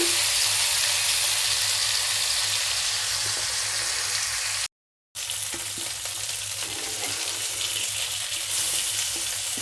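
Small fish fry in hot oil in a pan, giving a steady, loud crackling sizzle that lasts the whole time, apart from one brief silent gap midway.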